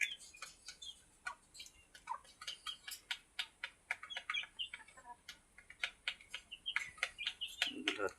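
Native chickens and roosters kept in cages give faint, scattered clucks and short chirps in a quick, uneven rhythm, heard from a little distance.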